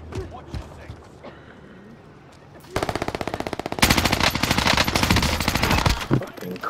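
Gunfire in a battle royale video game on a rebirth map, scattered shots at first, then rapid automatic bursts that grow loud and dense, with voices talking over the fire.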